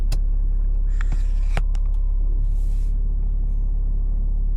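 A steady low engine rumble from an automatic car creeping forward, with a few faint clicks and a soft hiss over the constant drone and no one talking.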